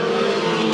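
Race cars roar past during a heat race at Bakersfield Speedway, a loud, continuous engine drone with no talk over it.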